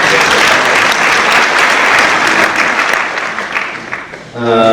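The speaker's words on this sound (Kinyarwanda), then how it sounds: "urumva twakwiha amashyi menshi cyane" Loud, sustained applause from an audience at a Rwandan Kwibuka memorial ceremony honoring Gisaro Muhoza Isaac Frederic. It fades near the end as a voice begins.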